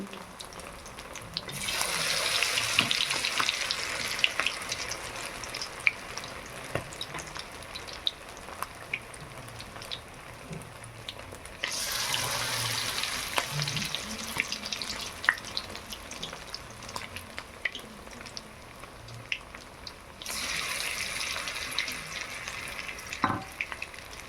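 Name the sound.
chicken lollipops frying in oil on medium heat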